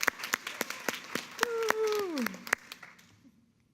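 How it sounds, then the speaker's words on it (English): Scattered audience claps ring out at a business presentation, sparse and fairly close, as a voice lets out a drawn-out whoop that falls in pitch. "So please give yourselves all a round of applause."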